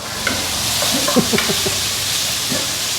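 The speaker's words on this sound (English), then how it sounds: "in goes some of the pork" Pork dropped into a hot pan with garlic and stirred, giving a short burst of sizzling and scraping over steady frying hiss, close and moderately loud.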